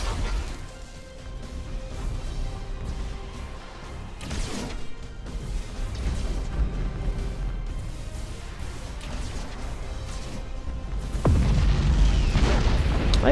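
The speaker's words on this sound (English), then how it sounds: "that was actually a good hit with the torpedoes" Torpedo impacts exploding against ships in Battlefleet Gothic: Armada II space battle game, heavy booming rumbles layered over a continuous low roar, with a sharper, louder blast near the end.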